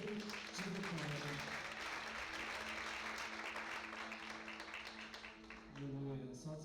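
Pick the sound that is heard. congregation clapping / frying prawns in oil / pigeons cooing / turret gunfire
congregation clapping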